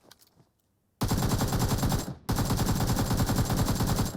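Rapid automatic AK rifle fire in the mobile battle royale game PUBG Mobile, a loud sustained burst after a short quiet start, with a brief gap before the shooting resumes at full intensity.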